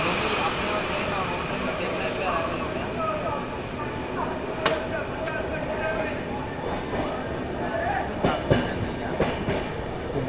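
An Indian passenger express rolls along the rails with a continuous rumbling roar. Rhythmic clickety-clack joint hits come through near the end, and faint voices can be heard in the background.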